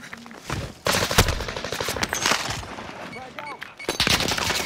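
Machine gun fire rattles in a video game shootout, with dense rapid bursts starting and stopping close and loud, and players talking between volleys.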